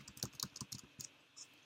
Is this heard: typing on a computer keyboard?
yes